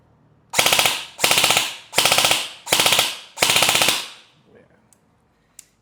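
ENC 645-2 airsoft rifle firing on full auto, five loud rapid bursts of clattering shots in quick succession, each about half a second, followed by faint handling clicks and quiet.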